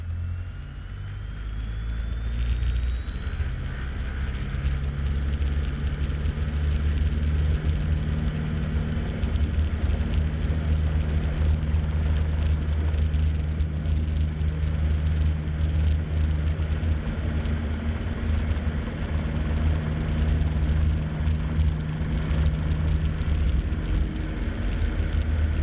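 Cessna 152 single-engine piston airplane during takeoff, its engine drone loud and continuous with a steady low hum and propeller buzz, holding at full power from start to finish with no talking.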